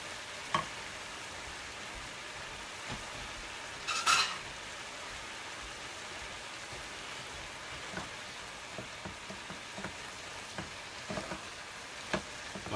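Pork liver and pig's heart fry in a pan for Ilocos igado, a faint steady sizzle with scattered pops and one brief louder crackle, no talking.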